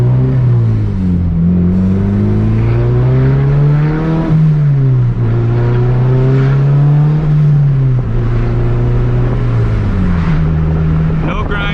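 A hatchback's engine drones loudly from inside the cabin as it drives, pitch climbing and then dropping at each gear shift in a repeated rise-and-fall pattern, with a voice speaking over it.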